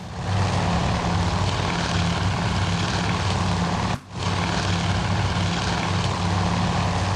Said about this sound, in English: these are Lexington's torpedo bombers. They're going in.